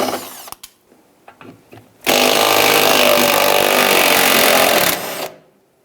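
A power tool whirs loudly and continuously for about three seconds, loosening the 11mm nuts that hold the gas tank on a 1999-2004 Jeep Grand Cherokee, preceded by a few scattered clicks and knocks.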